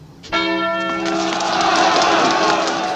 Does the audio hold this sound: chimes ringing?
yes